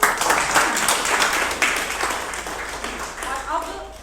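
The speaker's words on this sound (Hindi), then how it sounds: "उनके लिए तालियां" Audience applause at a Hindi art event, a steady crowd clapping through the whole stretch with a dense, even texture, a voice faintly audible near the end.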